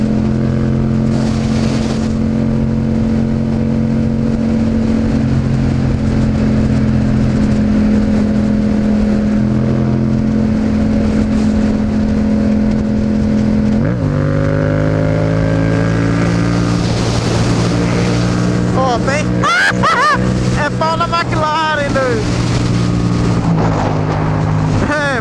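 An orange McLaren cruising on a UK road toward Oxford at about 140 km/h gives off a steady engine drone under loud wind rush, with one brief shift in pitch partway through.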